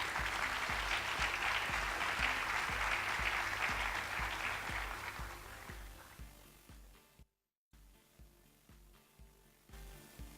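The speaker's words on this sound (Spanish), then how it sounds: "Aplausos" Audience applause at a talk on education and technopolitics, dense clapping that fades over about six seconds, leaving sparse scattered claps and faint rhythmic tapping.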